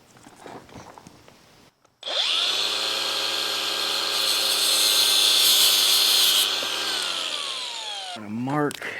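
A power drill whines loudly at a steady high pitch for several seconds drilling through a custom Harley-Davidson Softail's brake master cylinder, then spins down, preceded by quieter handling noises.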